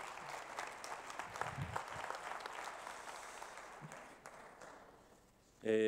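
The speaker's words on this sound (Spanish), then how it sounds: "le damos un aplauso, por favor" Audience applause at a cybersecurity conference talk on resilience, a steady patter of clapping from a seated crowd filling the room for several seconds and gradually thinning toward the end.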